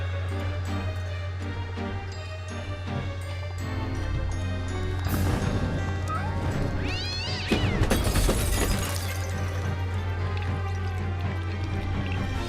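A cat meows and caterwauls in the video game American McGee's Alice, several drawn-out cries over a steady low hum and eerie game music, with splashy dripping effects in the middle.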